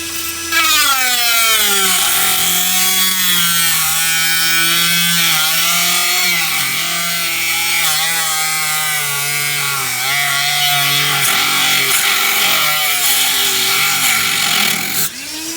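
Grinding wheel cutting through an RC gas boat's flex drive shaft, a loud, sustained whining grind whose pitch wavers and dips as the wheel bites the metal.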